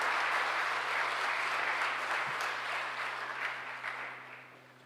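A ceremony audience at a Martin Luther King awards event gives scholarship recipients steady applause. It sounds full and continuous, then slowly fades near the end, with a low hum underneath.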